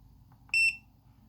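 A single sharp, high electronic beep from an Aixun T420D soldering station, short and clear, after a couple of faint clicks in a quiet room.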